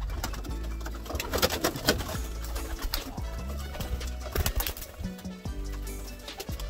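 Pigeons, including a female racing pigeon, coo at close range amid a clatter of handling, shuffling and wing flaps, with no talking.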